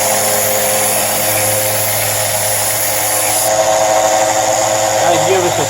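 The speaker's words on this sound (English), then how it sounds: "Sand the bottom of the sled." Steady electric sanding drone on the bottom of a wooden sled, a constant buzzing whir held close and loud throughout with no pauses.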